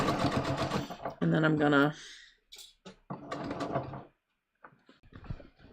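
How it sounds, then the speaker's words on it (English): A sewing machine stitches briefly across the center back seam of a pair of jeans, giving a short burst of rapid mechanical running between spoken remarks, quiet and close. "sew across my center back seam"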